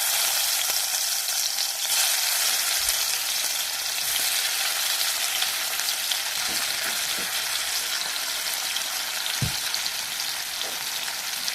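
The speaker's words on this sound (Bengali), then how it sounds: "চিংড়ি মাছগুলো দিয়ে দিচ্ছি" Prawns fry in hot mustard oil in a pan, giving a loud, constant bright sizzle, broken by a few soft low knocks as the pan or prawns are moved. No one speaks.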